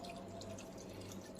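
Fresh mint leaves being rinsed under running water, a faint continuous trickle and splash with soft dripping, short and quiet.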